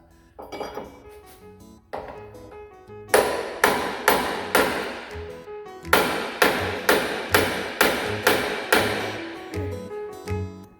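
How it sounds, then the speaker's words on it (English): Metal-on-metal hammer blows strike a pickle fork wedged under the pitman arm of a turbocharged Chevy S10 pickup, an early pair of hits then two steady runs of about six ringing clanks each, close and loud with no talking. "We're just going to give her a couple hammers and see what happens."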